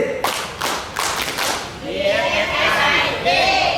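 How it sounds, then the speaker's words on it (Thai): Food sanitation trainees at a workshop clap as a group in a patterned rhythm, a few crisp collective claps up close, then voices cheering together with some people talking. "กลุ่มสองปรบมือแบบ BFSI สามสิบ"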